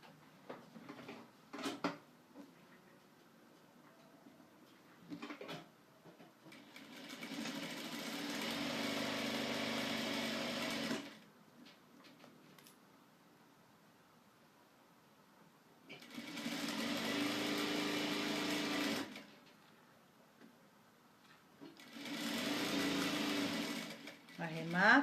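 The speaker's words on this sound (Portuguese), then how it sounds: "vou fazer a minha primeira costura. Você vai fazer essa costura com o pé de máquina." A sewing machine stitches the seam of a baby's crib sheet in three bursts of fast, even whirring separated by quieter gaps with handling noises and a voice.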